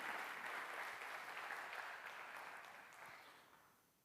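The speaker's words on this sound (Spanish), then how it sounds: "Un aplauso para él." A seated audience at a conference in Madrid applauds a speaker, steady clapping that gradually fades out toward the end, fairly quiet and distant.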